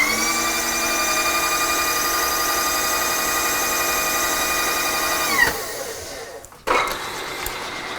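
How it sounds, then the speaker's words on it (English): A power drill spins up with a steady high whine while its tip spots a pilot hole, running for about five seconds, cutting off, then giving one brief second burst. "we're just using the end of that drill like a good drill starter."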